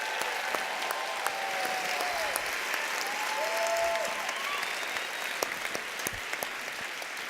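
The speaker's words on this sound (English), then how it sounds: "Big round of applause for all of our participants" An audience applauds award participants at an environmental awards ceremony, sustained dense clapping throughout with faint crowd murmur beneath.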